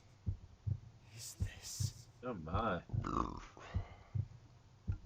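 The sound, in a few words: heartbeat sound from the video game Radiant Historia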